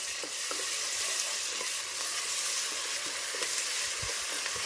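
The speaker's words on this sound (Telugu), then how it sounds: "బాగా కలుపుకొని మంచి వాసన వచ్చేలాగా, పచ్చి వాసన పోయి మంచి వాసన వచ్చేలాగా కలుపుకొని" Fresh ginger paste is stirred into boti curry with onions in a frying pan: a steady, moderate sizzle with occasional scraping stir strokes and no voices.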